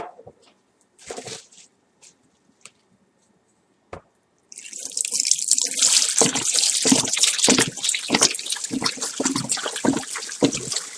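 A few scattered drips and taps, then liquid pours steadily into a sink with a bright, splashing rush that continues to the end.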